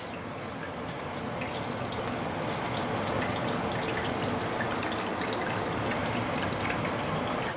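Steady, dense crackling and sizzling of chicken frying in hot grease, continuous and close, with no talking.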